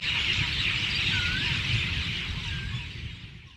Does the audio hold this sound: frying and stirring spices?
no